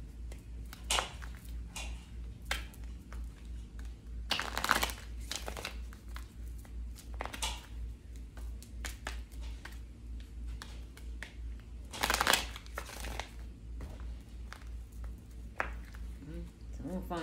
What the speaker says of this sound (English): Hold on, let me shuffle.